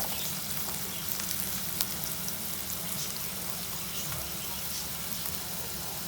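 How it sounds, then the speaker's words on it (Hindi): Chopped onions fry in hot oil for a paratha filling, giving a steady, dense sizzle that crackles evenly throughout with no pauses and no voices. "ऑयल गरम हो गया है, इसमें हम प्याज डाल देते हैं। प्याज को फ्राई करते हैं।"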